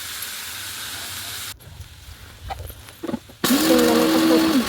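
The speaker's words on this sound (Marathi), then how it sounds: "कढईत कांदा टाकला।" Finely chopped onion hits hot oil in a kadhai. A broad, loud hiss bursts in near the end after quieter rustling and clinks, with a faint steady tone under the sizzle.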